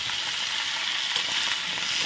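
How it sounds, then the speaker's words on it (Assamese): Sliced bitter gourd and potatoes fry in hot oil with already browned onions, giving a steady, close, dense sizzling hiss that carries on without a break and without any voices. "তাত এতিয়া মই কাটি ৰখা ভাতকেৰেলা আৰু আলুখিনি দি ভাজিম ভালদৰে"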